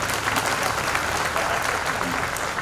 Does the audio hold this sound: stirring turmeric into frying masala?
no